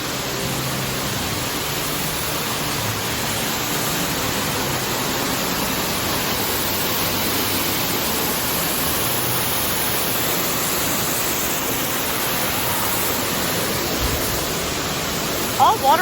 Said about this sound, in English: Another water feature